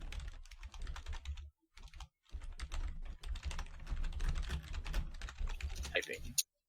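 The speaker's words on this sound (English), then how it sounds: "Typing." Rapid keyboard typing in bursts with short pauses between them, close and fairly loud, with a few heavier clacks near the end.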